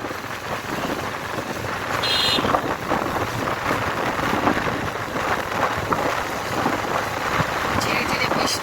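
Light drizzle and gusty wind wash over a motorbike ride beside the Ganges during Cyclone Remal, a dense, steady hiss of rain and wind buffeting throughout.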